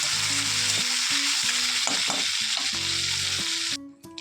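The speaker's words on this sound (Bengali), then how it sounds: "তারপরে কড়াই আমি তেল নিয়ে নিয়েছি, এর মধ্যে চিংড়ি মাছগুলো ছেড়ে দেবো।" Shrimp fry loudly in hot oil in a wok, a strong bubbling sizzle with stirring sounds throughout that quiets near the end.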